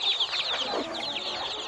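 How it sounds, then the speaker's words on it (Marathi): A lone hen rearing about sixty chicks clucks close by in short, busy bursts, with high chick peeps scattered through. "ही एकटी कोंबडी करत आहे संगोपनीचा"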